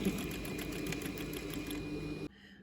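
A sewing machine runs steadily at close range, stitching a facing onto the seam allowance of a pocket opening, then stops abruptly near the end.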